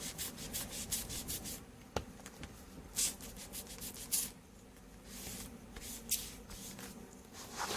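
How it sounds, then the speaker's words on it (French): Edges of a decorated paper planner being distressed by rubbing, giving faint, close, scratchy strokes in irregular bursts, with a few sharper scrapes and light shuffling between them. "je suis en train de vieillir les bords"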